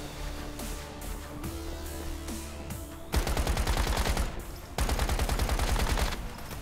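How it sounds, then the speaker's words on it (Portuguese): Rapid bursts of gunfire in the video game Once Human during player-versus-player combat, dense automatic shots crackling loudly in two long volleys after a quieter stretch of game ambience. "Agora eu tô tomando tiro."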